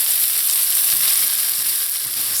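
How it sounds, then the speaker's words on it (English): Chopped garlic and pimento peppers sauté in hot oil, giving a steady, close, even sizzle that holds at one level throughout with no voices. "Now I'm going to go in with my chopped garlic and chopped pimento peppers, and saute until the garlic is light brown."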